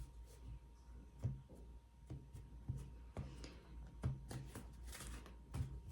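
A Cigano tarot deck is shuffled by hand, a rapid series of soft papery riffles and taps repeating in a steady rhythm, close and quiet, with no one talking.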